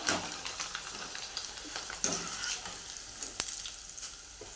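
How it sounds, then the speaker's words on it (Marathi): Papdi crackles and sizzles as it fries in hot oil for Marathi-style corn chivda, a dense, steady hiss with scattered pops and no talking over it. "तर आता आपण पापडी तळून घेऊया"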